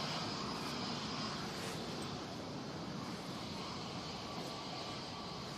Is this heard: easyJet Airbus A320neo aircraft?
yes